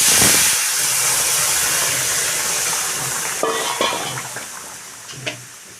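A sour pumpkin-and-fish mixture poured into hot mustard seed tempering bursts into a loud sizzling hiss that gradually fades, followed by a few light clinks of stirring against the pan.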